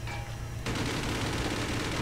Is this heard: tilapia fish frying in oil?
no